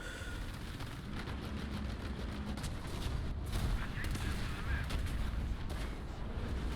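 Tank cannon fire in the War Thunder video game, heard as booming gunfire mixed into steady battle noise, with a heavier cluster of blasts midway through and no clear talk over it.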